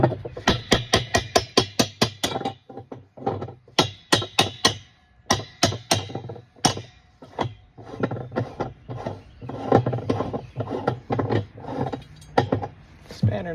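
Metal tool strikes and scraping while working a spanner nut off the outer drum of a Kenmore direct drive washer, loud close irregular knocks in quick bursts with grinding rubs between them.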